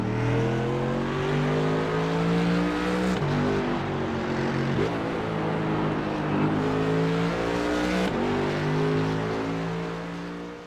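Race car engines in the iRacing simulator drone and rev steadily, with pitch rising through gears and dropping at shifts, a loud continuous engine note without voices.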